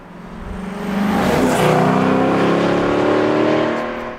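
A Lexus LC500 engine revs up from idle into a loud, rising V8-style howl with climbing harmonic tones, holds near the peak, then eases off toward the end.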